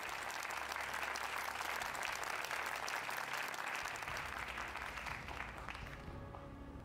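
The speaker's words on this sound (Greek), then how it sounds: "Δώστε ένα χειροκρότημα στο Γιάννη" Audience applause for a performer named Giannis, a dense sustained clapping from a crowd that fills the whole stretch and tapers slightly toward the end.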